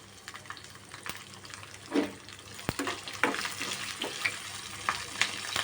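Peanuts, chopped green chilies and ginger fry in hot oil for sameya pulihora, giving a soft, continuous close sizzle with light clinks and stirring scrapes, with no talk.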